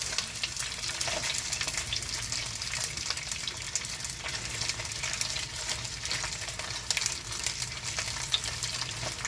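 Pieces of dried pollock, including the heads, frying in cooking oil, giving a constant crackling sizzle that stays at an even level close up and alone.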